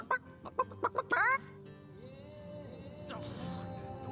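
A chicken in Divinity: Original Sin lets out a quick series of sharp clucks that end in a squawk, followed by low, soft background music.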